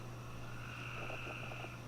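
A steady low hum with scattered croaking calls from frogs in the distance, continuous throughout with no voices.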